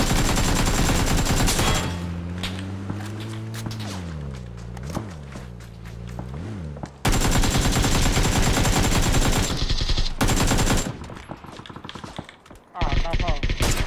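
Rapid automatic gunfire crackles in PUBG battle-royale gameplay, with long dense bursts broken by short pauses and a droning artillery-like tone sweeping beneath the early shots.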